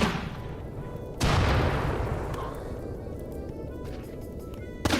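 A sharp, loud gunshot from a weapon in the video game Anomaly, followed by a long booming decay, with a second, fainter shot near the end.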